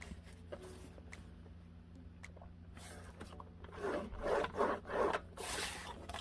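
Paper scoring along a score board for a DIY Halloween treat box: soft raspy rubbing strokes, faint at first, then a louder cluster of scraping passes toward the end, close and without speech.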